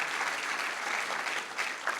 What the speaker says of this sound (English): round of applause to our amazing consultants